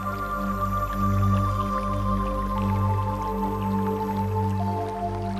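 Water runs steadily from a tap into a sink while dishes are washed, a constant close splashing flow with faint drips and clinks throughout, and no voices.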